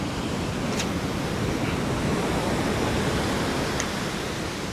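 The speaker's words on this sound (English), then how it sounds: "Oh, look at this huge roller coming in." Steady broadband roar of ocean surf on a striped bass fishing beach, a big roller and whitewash churning continuously at close range with no talking over it.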